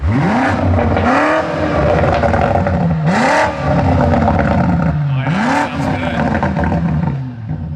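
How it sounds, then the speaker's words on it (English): A Mercedes C63 AMG engine revs hard several times in succession, each rev rising sharply then falling back, loud and close with a rough mechanical roar. "Let's get some revs."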